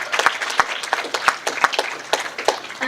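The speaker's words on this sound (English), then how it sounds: "Give him another round of applause." An audience at a lecture on biofeedback and the heart claps for the speaker: a moderate, fairly sparse round of applause with individual sharp claps standing out over a softer patter, heard close.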